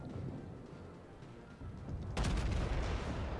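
Main battery guns of a warship in World of Warships roar in a heavy, booming burst that swells over ongoing low rumbling battle noise, loud and close, without speech.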